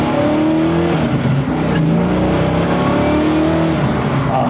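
Car with a newly fitted exhaust accelerates hard and downshifts, giving a loud, close engine roar with rising and falling pitch sweeps that runs steadily for the whole stretch, with no voices.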